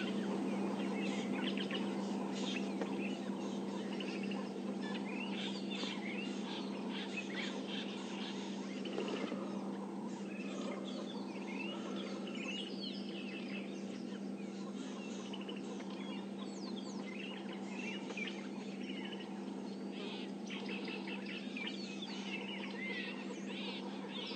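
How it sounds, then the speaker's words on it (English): Birds call repeatedly in the background over a steady low hum during a morning safari drive near a lion pride, a busy chorus of sharp chirps and squawks that sounds like alarm calling. "Interesting that there's some birds behind us alarming."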